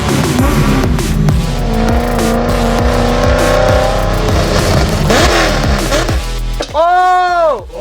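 An LS-swapped C8 Corvette drift car engine runs loud and close, idling with a lumpy beat before sharp throttle blips rise and fall, ending in a few quick high revs.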